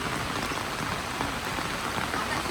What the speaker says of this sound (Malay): So hari ni alhamdulillah hujan.